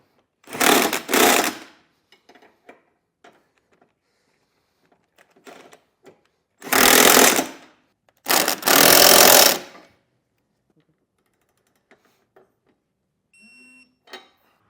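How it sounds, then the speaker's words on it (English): A tool runs in three loud bursts of about a second each while hitch bolts and nuts are tightened with a 3/4 inch socket, separated by quiet pauses with faint clicks and taps. "We'll tighten and then torque down our 4 bolts and nuts on each side."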